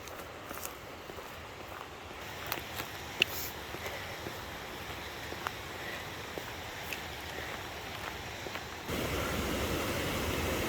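Steady rushing water of a creek waterfall at a Smoky Mountains campsite pours without a break, a broad hiss of falling water that grows louder toward the end.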